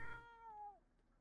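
A single cat meow from The Sims 4, a clear, fairly close call that rises and then slides downward before fading, with no talk over it.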